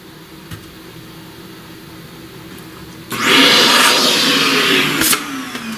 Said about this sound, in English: Let's vacuum some of this.